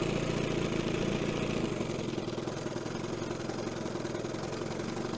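A 1970 Evinrude 25HP outboard motor idles steadily, a close, continuous mid-pitched drone with a faint rhythmic knock running under it and no voices.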